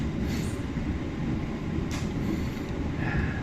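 Interior of a KA Jayabaya economy-class train in motion, with a steady low rumble of wheels and carriage noise, plus a few faint higher squeaks and rattles.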